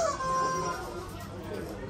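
A squeezed novelty duck toy gives out a short, honking squeak, with faint voices in the background.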